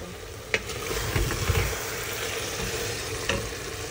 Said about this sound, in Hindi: ये डल गया सारा, अब इसकी भुनाई करते हैं